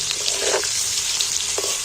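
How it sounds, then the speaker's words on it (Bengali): Potatoes dusted with turmeric and salt fry in hot oil, a steady close sizzle with a couple of brief stirring scrapes, no voices. "হলদি দিচ্ছি একটু আলুটার উপর নুনও ছড়িয়ে দিচ্ছি আলুগুলো একটু নাড়াচাড়া করে লাল লাল করে ভেজে নেব"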